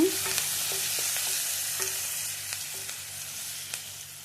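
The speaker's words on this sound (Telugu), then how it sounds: "కలుపుకోండి." Curry leaves and tempering spices sizzling in hot oil for a ridge gourd masala fry, a steady bright crackle with repeated soft scrapes and taps of a spoon stirring the pan, no voices.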